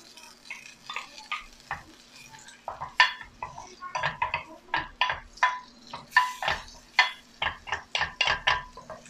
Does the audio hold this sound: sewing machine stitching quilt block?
no